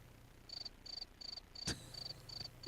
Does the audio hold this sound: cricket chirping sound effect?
yes